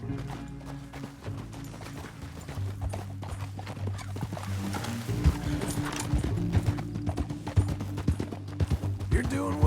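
Horse hoofbeats clip-clop at a steady gallop while riding in Red Dead Redemption 2, layered under game music and sound effects with occasional whinnies.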